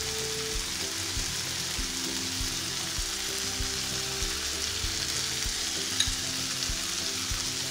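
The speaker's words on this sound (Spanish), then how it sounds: "ahí lo vamos a dejar a fuego alto y voy a echar la cebolla. Que se vayan sofriendo ahí." Onion sautéing in a pot over high heat, with a continuous crackling sizzle and repeated stirring knocks at an uneven rhythm, heard up close.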